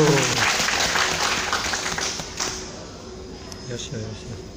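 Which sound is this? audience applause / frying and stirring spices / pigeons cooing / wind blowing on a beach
audience applause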